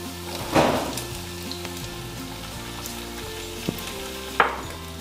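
Green peas sautéing in a pan with onions and chillies give a steady, close sizzle, with a couple of sharper spoon stirs and clinks rising above it. A soft, tonal musical backdrop sits underneath.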